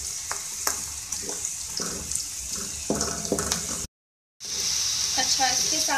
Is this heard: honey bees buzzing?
no